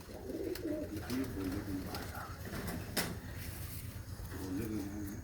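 Several breeder pigeons coo in soft, throaty bursts nearby in a loft setup over a rustling, noisy background, with a few sharp clicks.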